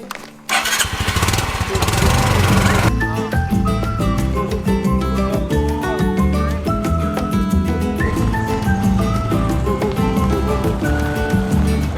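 A Honda Trail motorcycle engine starting and then running loud and close with a steady, rough putter as the bike is ridden over obstacles.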